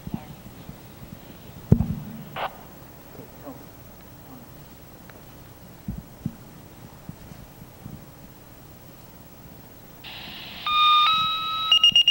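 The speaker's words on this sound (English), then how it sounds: "This is the last alarm" Near the end, a fire department last-alarm tone sounds at a memorial for a fallen fire engineer paramedic: a series of bright electronic dispatch tones after quiet ambient noise with scattered knocks.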